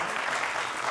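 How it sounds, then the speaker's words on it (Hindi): Studio audience at a Hindi TV news debate show claps steadily, a dense, even burst of applause filling the short moment on its own. "तालियां।"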